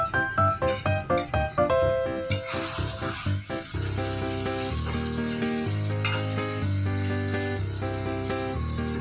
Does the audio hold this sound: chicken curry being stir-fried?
yes